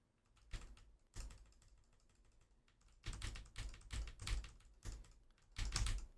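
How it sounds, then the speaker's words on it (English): Soft keys of a Logitech G515 Rapid TKL keyboard pressed in scattered bursts, including the WASD keys, some faint and others in rapid clusters, close and otherwise quiet. "So I'm just going to kind of spam the WASD keys"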